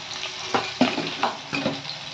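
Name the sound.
bay leaf, onion and nigella seeds frying in oil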